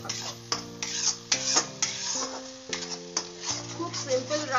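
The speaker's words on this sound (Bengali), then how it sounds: "এরপর এটাকে আমি শুধু নাড়াচাড়া করতে থাকবো।" A utensil stirs mankochu (giant taro) paste with turmeric and salt in a pan, giving close, repeated scraping and clinking strokes in an uneven rhythm, with steady tonal hum beneath.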